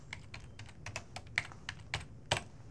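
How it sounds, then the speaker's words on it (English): Keys on a computer keyboard tap in a quick, uneven run of about a dozen crisp clicks, close and fairly quiet, with no voices over them. "we can type"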